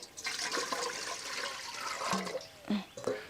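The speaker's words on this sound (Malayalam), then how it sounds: "പാത്രം അടുപ്പത്ത് വെച്ച് ഇതിൽ കുറച്ച് വെള്ളം ഒഴിച്ചു കൊടുക്കാം" Water is poured into a pot set on a stove, a steady, fairly quiet rushing pour with splashing that breaks into a few separate gushes near the end, with faint voice sounds.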